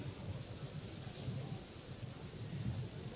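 Steady rain with low thunder rumbling outside, a continuous loud wash of rainfall and deep rolling booms under it, with no talk.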